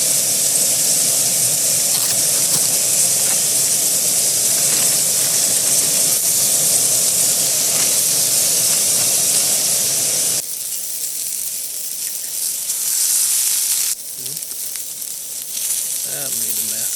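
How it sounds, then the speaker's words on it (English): Green peppers hit a hot pan at a camp stove during a motorcycle camping trip, giving a loud steady sizzle and hiss that drops slightly partway through as the cooking settles. "We'll throw in our green peppers now."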